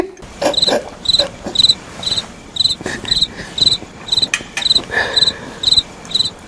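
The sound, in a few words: cricket chirping sound effect for awkward silence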